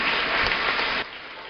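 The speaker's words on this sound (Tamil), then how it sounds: "நல்லா கைதட்டுங்கப்பா" Audience at a Tamil debate forum clapping in a dense, steady burst that cuts off abruptly after about a second, leaving a quieter wash of room noise.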